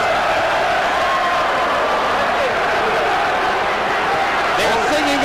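A large arena crowd roars steadily throughout at the Lennox Lewis vs Evander Holyfield heavyweight boxing match, a dense wash of cheering and applause under continuous commentary.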